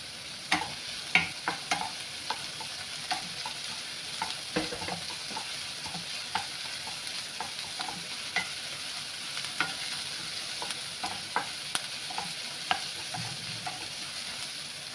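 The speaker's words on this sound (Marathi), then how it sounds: "कांदा घालायचा, लसूण घालायचं," Onion and garlic fry in a pan while a spoon stirs, producing a continuous sizzle punctuated by regular scraping clicks and knocks against the metal, close up and without speech.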